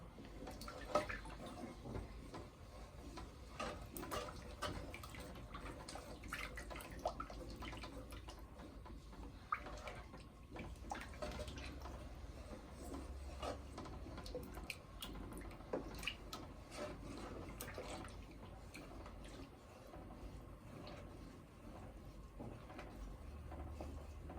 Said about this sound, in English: So I'm going to add some water and allow this to boil.